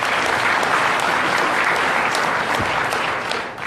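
Loud, sustained applause from a large audience at a political rally, a thick even roar of many hands clapping that holds steady before easing off at the very end.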